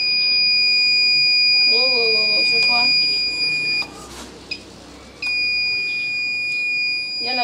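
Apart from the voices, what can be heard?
alarm triggered by approaching the house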